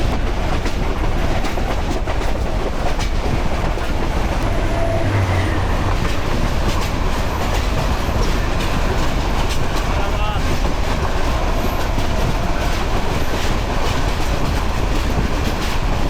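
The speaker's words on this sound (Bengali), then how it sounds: "এই সকাল সকাল ট্রেন জার্নি" A morning passenger train in Bangladesh, heading toward Madhukhali, rolls steadily along the rails with a continuous rattling clatter and rhythmic wheel clicks, loud and close, with faint talk mixed in.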